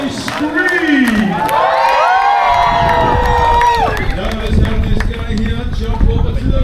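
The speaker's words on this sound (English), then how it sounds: "Somebody scream." An audience at the Samoa Village show at the Polynesian Cultural Center in Hawaii screams and cheers loudly, with sustained rising shrieks and whoops over dense crowd noise and clapping.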